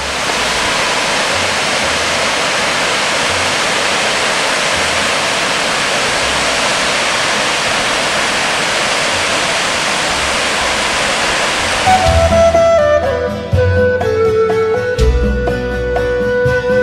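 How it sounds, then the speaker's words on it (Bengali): A waterfall on a Himalayan trekking trail in Garhwal, India, gives a steady, loud broadband roar that runs unbroken for about twelve seconds before abruptly giving way to quieter tonal sounds. "একটু এগোতেই চোখে পড়ল ওয়াইল্ড ফ্লাওয়ার জলপ্রপাত।"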